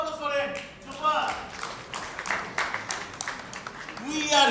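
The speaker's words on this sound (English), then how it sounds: "Can you have a big round of applause for it?" An audience at a recruiting conference breaks into a round of applause, a dense wash of clapping that swells and fades over several seconds, with a voice speaking over it.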